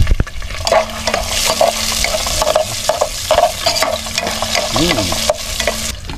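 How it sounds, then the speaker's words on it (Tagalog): Chicken sautéing with ginger in a hot pan for tinola, loud continuous sizzling with repeated close scraping and stirring strokes of a utensil, no talking. "Tapos igisa din natin itong chicken hanggang mag brown siya."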